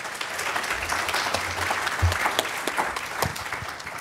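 An audience applauds steadily to welcome a speaker at an academic conference session, a warm sustained wash of many hands clapping throughout.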